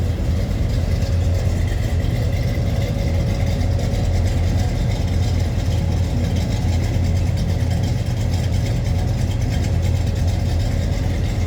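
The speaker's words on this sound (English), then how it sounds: "Nice little rumble coming out of that 350." A 1965 Chevrolet Impala's 350 V8 engine idles steadily with a deep, loud rumble and an even mechanical throb that holds throughout.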